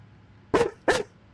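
A dog gives two quick, sharp barks close by, a brief pair spaced a fraction of a second apart against a quiet room.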